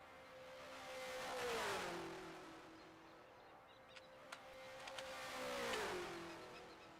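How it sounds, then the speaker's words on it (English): A 1974 USAC race car streams past the pit entry at the Norton 250, its engine note rising as it approaches and dropping in pitch as it passes, then a second car follows with the same swelling pass-by. "the car streaming past as Canola comes around once again"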